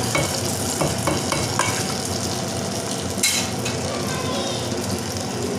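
Fried raisins are stirred into sweet pongal, a steady soft scraping and sizzling stir that continues close by without a break, with no voices.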